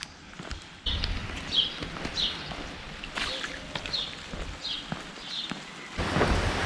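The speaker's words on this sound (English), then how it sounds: "It's already started to rain." Rain just starting, steady patter on a surface along the Camino del Norte between Ribadeo and Lourenzá, Spain, with scattered louder drips and splashes over a constant hiss, a little heavier toward the end.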